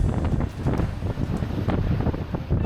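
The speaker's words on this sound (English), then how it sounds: "The wind was really strong and gusty" Strong, gusty wind batters a ship deck at sea in rough waves, roaring in irregular bursts with heavy buffeting against the microphone, loud and continuous with no voices.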